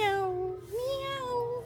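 A cat gives a long, clear, drawn-out meow close by, rising and falling in pitch over a quiet outdoor background on a rural mountain-town trip.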